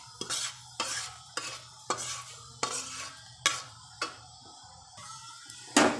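A spoon scrapes and knocks through khichuri in a cooking pot, about nine or ten distinct strokes at a regular pace, close and fairly quiet with faint sizzling beneath.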